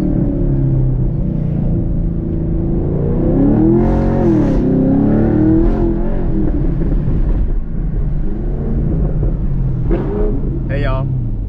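A sixth-generation Chevrolet Camaro SS/ZL1 V8 rumbles and revs through an aftermarket cat-back exhaust, the exhaust note rising and falling through a few throttle blips, with voices talking over it.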